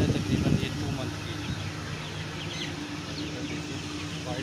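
Small chicks of Misri hens on a village poultry farm cheep and peep continuously close by, with faint clucking from older fowl and someone talking over the flock.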